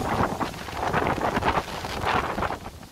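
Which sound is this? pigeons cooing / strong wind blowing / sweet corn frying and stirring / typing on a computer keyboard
strong wind blowing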